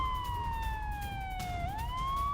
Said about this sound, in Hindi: शहर में गूंजे रेड अलर्ट सायरन।